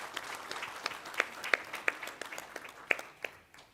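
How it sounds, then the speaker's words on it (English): A crowd at the North West provincial government's launch of its Provincial Growth and Development Strategy applauds, a steady wash of clapping with a few sharper individual claps standing out, fading toward the end. "Let's give them a round of applause again."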